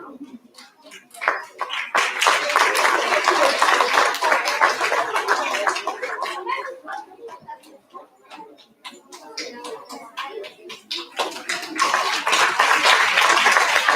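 Audience applause at an elementary school recognition ceremony, with a dense burst of many hands clapping that fades in the middle and then swells again loudly toward the end.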